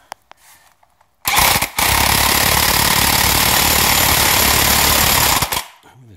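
An impact wrench drives a chrome socket while pressing out a control arm upper bushing, a loud, continuous hammering rattle lasting about four seconds after a brief start and short pause, then cutting off.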